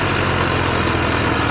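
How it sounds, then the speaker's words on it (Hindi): A Massey Ferguson 35 horsepower tractor fitted with a rotavator runs nearby, giving a loud, steady, close engine drone with no pauses and no talk. "35 हॉर्स पावर वाले ट्रैक्टर की एक बार आप रूटावेटर के RPM की कंडीशन देख लो, और ये मैसी फर्गूसन है"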